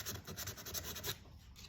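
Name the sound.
sanding painted wood with sandpaper to distress it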